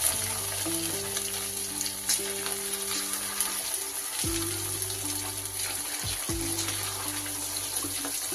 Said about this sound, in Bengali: তেল গরম হলে এবার আমি এগুলোকে চিকেনটা ভেজে নেব।